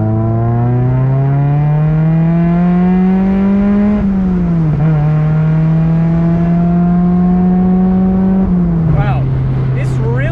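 A Mazda Miata NC pulls hard in fifth gear at about 65 mph with the throttle wide open. The engine drone is loud and steady and climbs slowly in pitch, then briefly drops and settles near the end.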